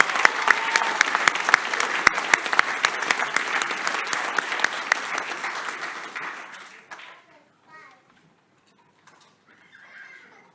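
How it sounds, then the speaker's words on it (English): Sustained applause for newly elected councillors at an inaugural council meeting, loud dense clapping from a crowd with sharp individual claps, fading out after about seven seconds into quieter room sounds and murmuring. "One more round of applause for all our newly elected councillors."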